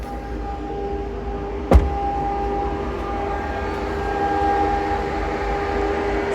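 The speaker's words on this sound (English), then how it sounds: "Sorry again for the street sweeper noise, they're right outside." A steady mechanical drone from a street sweeper working close outside, with a constant rumbling hum, a brief sharp clunk early on, and a slight swell later.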